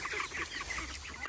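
Ducks in farm fields calling outdoors: a quick run of nasal honking quacks, several overlapping calls in a rapid rhythm, moderately close and fairly faint.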